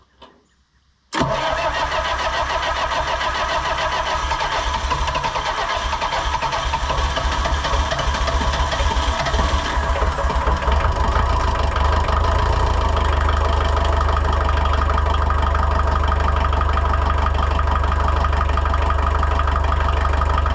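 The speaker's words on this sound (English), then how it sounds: "now I'm going to fire it up, let it run a little bit, and then check it again" Diesel engine of a Bobcat 743 skid steer cranks and fires after a short mechanical noise. It then settles into a loud, steady idle that rumbles on close by with no talk.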